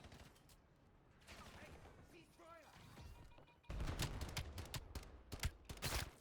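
Gunfire from Black Ops 6 gameplay: a few sharp, loud bursts of shots in the second half, preceded by quieter game sounds and mechanical noises.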